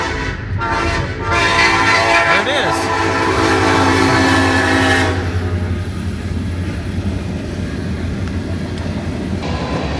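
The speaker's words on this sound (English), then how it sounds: "sounds like a train's coming." A train rumbles past through a downtown in Iowa with a long, loud horn blast that cuts off midway, leaving the steady rolling clatter of rail cars. A brief voice is heard early.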